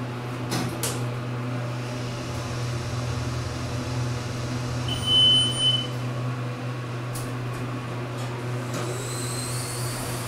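Low steady hum of a Minnesota hydraulic elevator descending, a continuous mechanical drone with a few faint clicks and a brief thin whine in the middle, heard close without talk.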